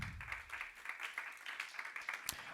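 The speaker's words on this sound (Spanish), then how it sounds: "Dale palmas al Señor." A church congregation claps hands together for the Lord, a quick, uneven patter of many palms heard at moderate distance for a few seconds.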